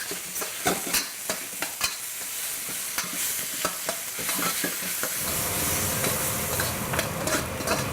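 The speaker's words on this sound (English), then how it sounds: "I like to get it in the pan and let it sit still over the heat of the pan." Beef and garlic stir fry sizzles loudly in a hot pan, with steady frying hiss broken by sharp clatters of stirring, swelling into a denser sizzle toward the end.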